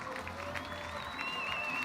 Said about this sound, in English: give our Wantoks from Kiribati another cheer